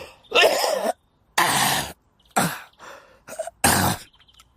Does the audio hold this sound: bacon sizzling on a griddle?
no